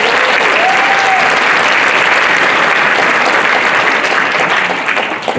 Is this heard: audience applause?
yes